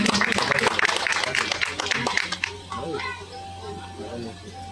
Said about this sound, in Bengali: সকলে একটু জোরে করতালি দিন